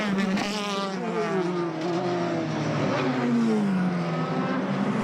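A Formula BOSS race car engine howls at Mondello Park in Ireland during a championship round, rising and falling in pitch as it accelerates and shifts along the track, loud and continuous with no other sounds evident.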